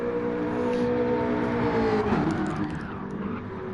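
Race cars drifting in a PS4 racing game, a steady high engine whine with a sliding, bending pitch and a rising tire-screech hiss, fairly loud and continuous.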